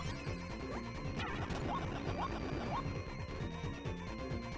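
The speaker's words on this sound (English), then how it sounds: "kill the boss by smashing him in the head with your hands" A boss is smashed on the head in the Sega Genesis game Ristar. A few sharp hit and crash effects land in quick succession under loud, busy chiptune music.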